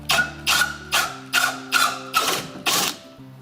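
A Davke 4000 cutting tool trimming 1.5 inches off a drain pipe, six rhythmic grinding cutting strokes in quick succession over a low mechanical hum, close and fairly loud.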